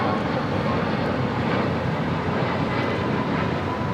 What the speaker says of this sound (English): takeoff on the south side is Southwest Airlines flight 462 heading to Austin, Texas. 737 MAX 8